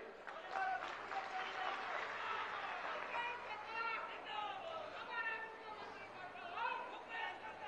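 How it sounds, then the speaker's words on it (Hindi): Crowd of farmers at an outdoor political rally, with scattered applause mixed into murmuring chatter and shouting voices, moderately distant and fairly faint throughout. "किसानों की ताली कम बज रही है।"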